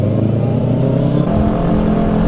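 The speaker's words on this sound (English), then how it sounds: "You should ask this guy on the motorcycle behind us." A motorcycle engine idles and revs close by, a loud, continuous low rumble with rough throbbing pulses that runs through the whole stretch without pause.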